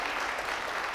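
Studio audience applauding on a French-language television variety show, a dense, steady burst of many hands clapping close by that fills the short moment without a break.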